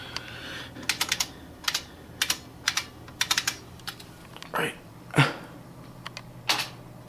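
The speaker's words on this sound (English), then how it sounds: "I'm going to go ahead and type in my password." Keys clatter in short bursts and single strokes on an IBM Model F keyboard as a password is typed, loud and close, with a few softer thuds between the keystrokes.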